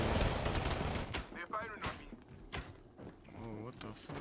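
Enemy gunfire cracks in a shooter video game, scattered bursts and thuds mixed with footsteps while players talk over the action.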